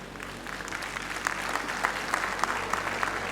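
A hall full of people at a university graduation ceremony applauding a valedictorian, a steady wash of clapping from a large crowd that swells slightly and continues without pause.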